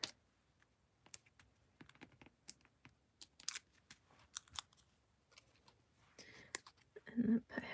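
Scissors trimming a piece of paper card in a cardmaking craft session, giving sparse, crisp snips and clicks spread across the clip, close and fairly quiet, with paper handling and faint speech near the end.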